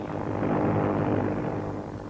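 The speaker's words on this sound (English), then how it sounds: "The Japanese carrier-based planes sped to the attack" Japanese carrier-based warplanes fly in to attack the American airstrip on Midway, their steady propeller and engine roar dense and continuous, heard alone without voices.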